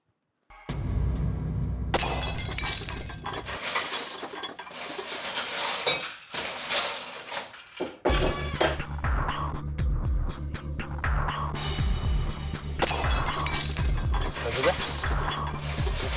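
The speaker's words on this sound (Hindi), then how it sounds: "किचन से बर्तन गिरने की आवाज आ रही है।" Kitchen utensils, pots and dishes crash and clatter repeatedly in several loud metallic bursts, ringing clinks between impacts, with people talking and background music at times.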